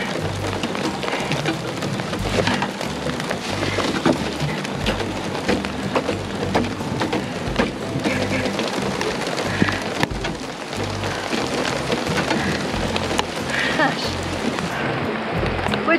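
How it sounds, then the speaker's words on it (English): Heavy rain from a storm pours down steadily on a lake, a dense continuous hiss of drops drumming on surfaces nearby. "it's just flat raining on us now"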